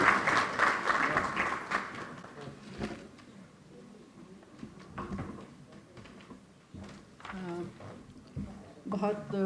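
Audience applause at a mushaira poetry gathering, a brief burst of clapping at the start that soon fades under a host speaking.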